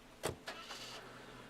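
Car engine starting in the video game Nancy Drew: Trail of the Twister: a sharp crank burst followed by two softer catches, then a steady low idle, short and close, with no voices.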